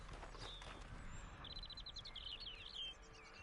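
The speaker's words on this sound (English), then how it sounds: "Sounds like a lot of birds." Many birds chirp and trill in the Red Dead Online game world, a rapid series of clear tweets over a soft ambient bed, fairly faint and with no talk.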